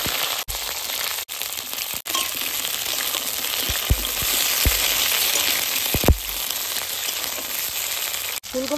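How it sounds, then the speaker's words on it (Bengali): Cauliflower frying in mustard oil crackles and sizzles steadily up close, with sharp pops and a few clicks and knocks from the pan throughout. "ফুলকপি ভাজার জন্য সর্ষের তেল দিয়ে দেবো"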